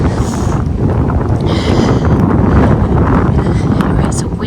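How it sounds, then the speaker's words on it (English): Strong, chilly wind blows across the Appalachian Trail on a day hike, buffeting the microphone with a loud, steady roar that swells slightly midway and never lets up. "it's so windy today and chilly"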